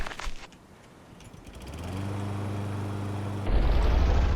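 Boat motor running in the survival game Stranded Deep: a steady engine drone with a humming tone that starts up, holds level, then grows louder and rougher near the end.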